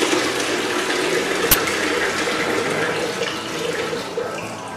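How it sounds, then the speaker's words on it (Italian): Innova FLU 70 pasteurizer rinsing itself with water, a steady broadband rushing and splashing that runs without a break, with one sharp brief click partway through. "attivando questo pulsante, aiutiamo la macchina a sciacquarsi"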